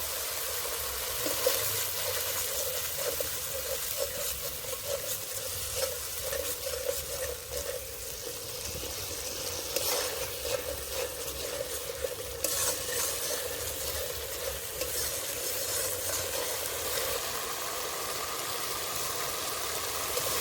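Egg curry with sour yogurt and coriander leaves is stirred and sautéed in a pan, giving a continuous close sizzle with scraping stirs and a low background hum, and no talk.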